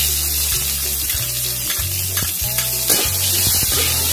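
Ingredients for mee goreng hit hot oil in a pan and fry with a steady, close sizzle, while a spatula scrapes and stirs in a few repeated strokes over a low hum.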